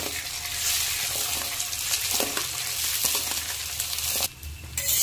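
Rice grains fry in a pan with a close, continuous sizzle. Stirring scrapes run through it, and the sizzle briefly dips near the end.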